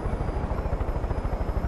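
A helicopter in the video game Far Cry 5 gives a steady, pulsing rotor thump with a continuous engine whine, sounding close and sustained throughout.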